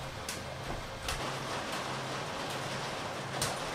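Heavy rainstorm pouring down outside a cabin, a steady broadband hiss of dense rainfall with occasional sharper splatters and knocks, close and continuous, no talking.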